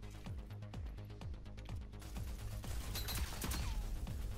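Gunfire in the shooter video game Rogue Company, a steady rhythmic string of regular shots giving way to denser, louder overlapping fire near the end.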